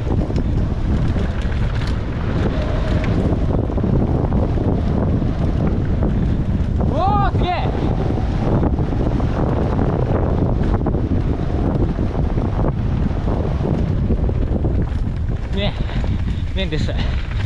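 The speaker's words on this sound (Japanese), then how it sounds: "めっちゃ吹く。" Strong wind battering the microphone outdoors at Nozawa Onsen, a constant loud roaring rush throughout with a voice briefly audible.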